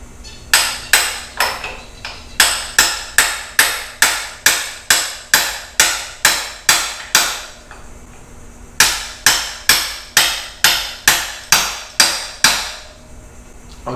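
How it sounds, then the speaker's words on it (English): Repeated metal-on-metal strikes of a wrench beating on a stuck bolt during garbage disposal replacement, two long runs of sharp evenly spaced clanks, about twenty then eight, loud and close with a brief pause between. "Or beat it with another wrench."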